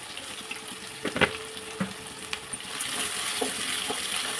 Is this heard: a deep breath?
no